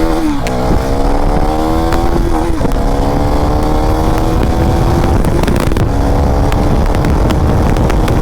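A KTM Duke 390 Gen 3 motorcycle in track mode pulls hard under acceleration, its loud, close engine note climbing steadily through the gears with brief dips at the shifts, continuous for the whole stretch.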